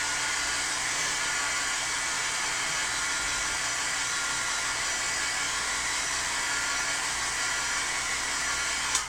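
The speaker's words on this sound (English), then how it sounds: "Let me hit this with a heat gun real quick just to make sure it won't smudge." A heat gun blows steadily and loudly over freshly applied black soot distress ink on paper stencil work, a constant dense whooshing roar that holds unbroken for about nine seconds before cutting off with a small click.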